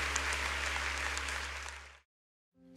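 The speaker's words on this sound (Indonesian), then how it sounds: "Sekali lagi kita berikan tepuk tangan yang terbaik buat Tuhan kita" A church congregation applauds at an evening worship service, a sustained crowd of clapping over a steady low hum that fades out, a brief silence following before faint sound returns.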